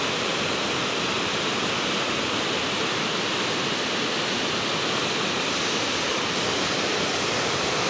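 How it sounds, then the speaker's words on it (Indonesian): Fast, swollen river in rainy season rushing beneath a bridge between Pemalang and Pekalongan, a loud, constant broadband roar of turbulent water with no pauses, heard from above. "Ini kebetulan lagi musim hujan, jadi airnya cukup deras."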